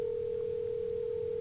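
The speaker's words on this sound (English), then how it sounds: "That was my line. That was my dial tone." Telephone dial tone, a steady unbroken hum holding at one pitch, fairly quiet and heard on its own throughout.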